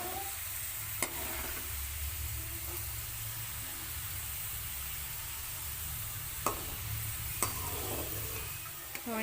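Bitter gourd frying in oil in a kadai makes a faint, steady sizzle over a low hum, with a few sharp clicks of stirring scattered throughout.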